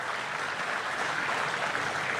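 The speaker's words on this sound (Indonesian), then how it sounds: "Kita berikan tepuk tangan buat beliau." Audience applause greeting the President of Indonesia at a subsidized housing event, a steady, dense wash of clapping that stays at an even level throughout, with no voices over it.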